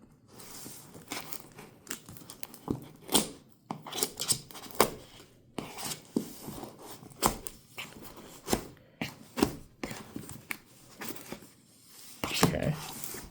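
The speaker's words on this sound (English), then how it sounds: "I don't want to cut in there and damage any of the papers." Scissors cut open a package holding WW2 documents, giving repeated crisp snips mixed with crinkling and rustling of paper and wrapping, close and busy throughout.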